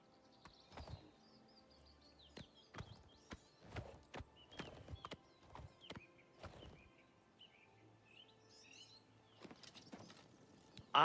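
Horse hooves clip-clop on the ground in Oblivion Remastered, a steady run of separate thuds that come close and loud, with birds chirping faintly in the background and no talk.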